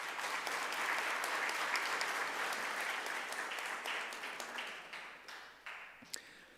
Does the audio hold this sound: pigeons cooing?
no